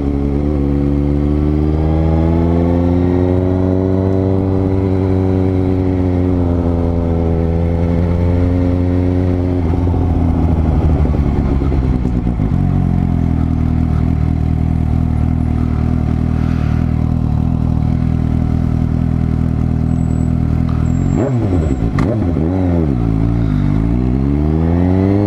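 A Suzuki GSX-S750 motorcycle engine hums close by, its pitch rising and falling as it revs and shifts through a curve, loud and continuous throughout.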